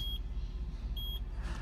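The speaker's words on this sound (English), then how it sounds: "The vehicle's going to beep," Two short high-pitched electronic beeps from an IGLA anti-theft system on a Ferrari 488 Spider after authentication, spaced about a second apart over a low idle rumble.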